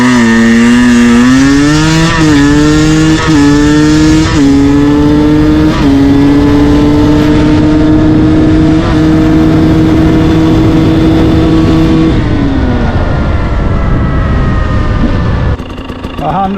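KTM 300 TPI two-stroke motorcycle pulling hard in second gear, a loud close engine note climbing steadily in pitch for about twelve seconds, then dropping off as the throttle closes, with no talk.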